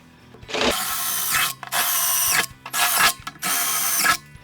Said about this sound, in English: I use the same drill that I use to get my hole started here